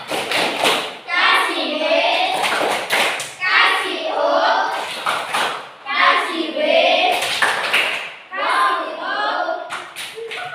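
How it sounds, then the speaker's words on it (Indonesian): A classroom group claps rhythmically as a cheer for group one, loud bursts of claps in a repeating pattern alternating with children chanting in unison. "Ini tepuk tangan untuk kelompok satu."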